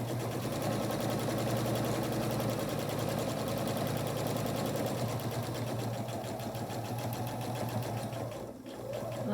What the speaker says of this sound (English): I have my 1/4 inch presser foot, and I will tack down my stitches with my back stitch.